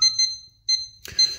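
Home alarm keypad emitting delayed-arming beeps, a few short high electronic tones in a quick repeating pattern, clear and close.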